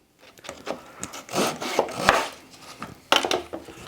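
A wooden piece for a shoji and kumiko lamp panel is cut by hand, producing a run of short rasping, scraping strokes and a few sharp taps at an irregular rhythm, close and fairly quiet.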